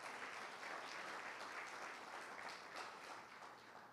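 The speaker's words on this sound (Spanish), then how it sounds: "Y damos un aplauso al Espíritu Santo de Dios." A church congregation applauds steadily during a sermon, a continuous wash of many hands clapping that holds even and fairly distant before softening at the end.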